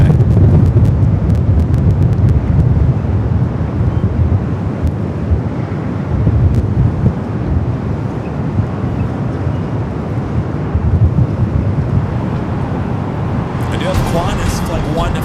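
Gusty wind roars across a microphone at Los Angeles airport, a loud, continuous low rumble that swells and eases, with a brief hiss near the end.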